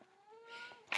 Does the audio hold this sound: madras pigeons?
no